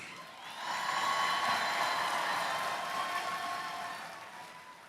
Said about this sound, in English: I want you to give the following people a rousing applause.